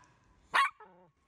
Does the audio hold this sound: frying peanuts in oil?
no